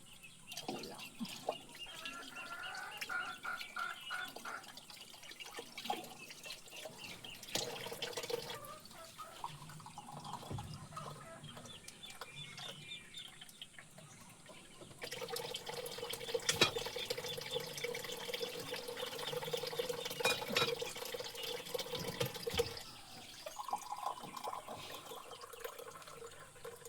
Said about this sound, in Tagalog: nagdag ako ng tubig kasi kulang